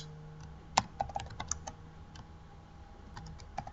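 Someone types an email in Gmail on a computer keyboard, producing irregular close keystroke clicks with a few sharper taps over a quiet room hum.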